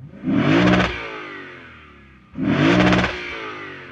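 A 2024 Lexus IS 500 V8 revved from outside the car, exhaust connected directly to the mufflers: two sharp, loud blips roughly two seconds apart, each rising and then falling back to a low idle burble.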